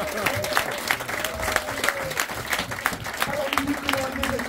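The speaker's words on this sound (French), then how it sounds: "On peut les applaudir." Audience applause at a hypnosis stage show, dense steady clapping from a crowd lasting throughout, with a voice talking over it in places.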